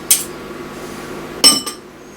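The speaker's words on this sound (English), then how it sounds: "Switch back to our spoon again. Scrape that off the fork." A spoon scrapes egg filling off a fork, giving a few sharp metallic clinks and taps, one near the start and a quick pair later, close and crisp in a quiet room.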